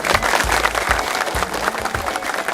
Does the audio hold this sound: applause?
yes